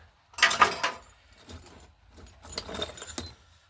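A small bicycle key jangles and clinks in a few short bursts, close by, with brief quiet gaps between the shakes.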